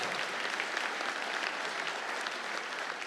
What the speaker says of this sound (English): So maybe a quick round of applause as we name off